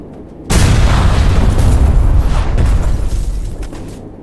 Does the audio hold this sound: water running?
no